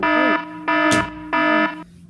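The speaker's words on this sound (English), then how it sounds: "And then an alarm's gonna wake me up." An electronic alarm sound effect plays as three loud, harmonic buzzing blasts in a regular on-off pattern, with a brief sharp noise between the first two bursts.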